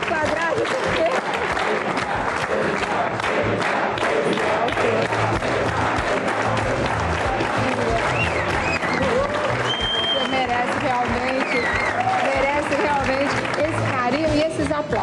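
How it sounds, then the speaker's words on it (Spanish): Sustained applause from a large crowd, steady and dense for the whole stretch, with voices mixed into the clapping. "Recebemos aplausos aí de pé."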